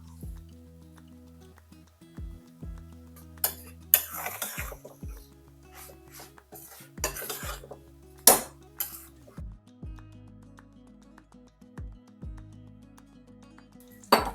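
Egg biryani ingredients stirred in a pot, scattered metallic clinks and scrapes of a spoon against the vessel, some sharp and loud, separated by quiet gaps; no talk.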